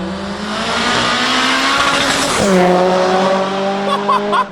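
A high-revving tuned 800-horsepower Volkswagen Golf 5 GTI engine screams as it accelerates, then shifts and climbs again while tires squeal; loud and close.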